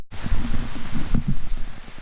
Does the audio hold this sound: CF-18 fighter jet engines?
no